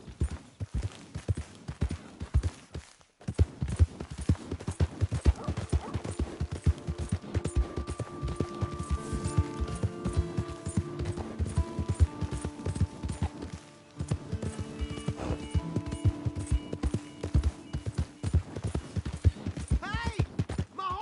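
Horse hooves clip-clop steadily in Red Dead Redemption 2, a close, rhythmic trot running nearly the whole time over a musical score, with a brief pause early on and a voice calling out near the end.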